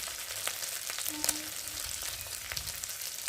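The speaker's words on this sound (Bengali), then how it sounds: "ভালো করে ভেজে নেবো মশলাটাকে। মশলাটা ভাজা হয়ে গেছে দেখতে পাচ্ছ, তেলও ছেড়ে দিয়েছে।" Spice masala frying in oil in a pan gives a close, continuous hissing sizzle with scattered crackles and a couple of brief utensil clinks.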